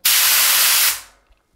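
An HVLP spray gun blasts paint in one loud, close hiss lasting under a second, with the fan closed and too much color flowing, then cutting off abruptly.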